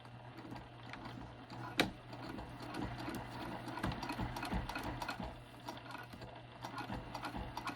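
A sewing machine stitches a lined box-bottom zipper pouch, running in a steady continuous mechanical whir at moderate, close level with one sharp click near the start.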